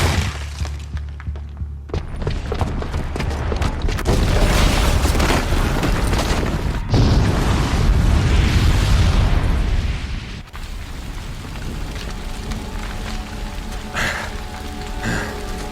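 Booby-trapped bomb exploding in Horizon Zero Dawn: a loud, rumbling blast with crumbling debris, building into a sustained roar that surges again midway, then fades into lingering falling rubble and low rumble.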